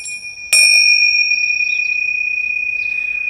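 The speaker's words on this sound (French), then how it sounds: "Mais avant, coup de gong." A single struck gong or bell rings out loud, one sharp hit followed by a long, steady sustained tone that hums on without fading.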